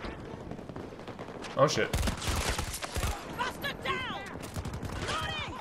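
Rapid automatic gunfire and scattered shots crackle in Battlefield 2042 on the reworked Breakaway map, bursts coming in uneven clusters with whizzing ricochet tones, while a player briefly speaks over the fighting.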